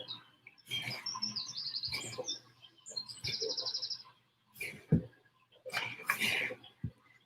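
Several birds chirp and tweet outdoors in repeated bursts of high twittering song, with a low steady hum beneath and soft handling noises between calls.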